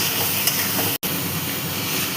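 Boiled potatoes sizzle in a hot pan while being sautéed for Bengali ghugni, giving a steady close frying hiss with a brief break midway.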